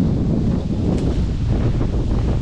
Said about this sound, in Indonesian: angin kencang ini